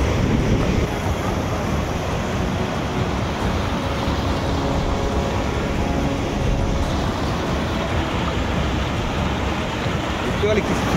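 Water pouring over large rocks in a stream at Choto Mahakal in the Dooars, a steady loud rushing wash that fills the whole stretch with no breaks.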